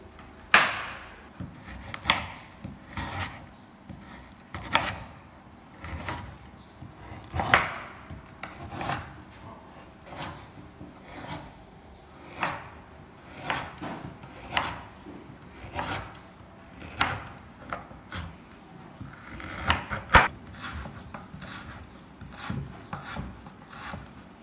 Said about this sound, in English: next I start to chop galangal.